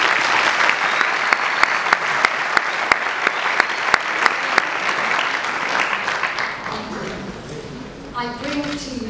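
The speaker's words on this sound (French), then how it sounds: "On peut les applaudir, s'il vous plaît." An audience at a French rally against Islamophobia breaks into loud, rapid applause with sharp distinct claps, fading over several seconds before a voice starts speaking.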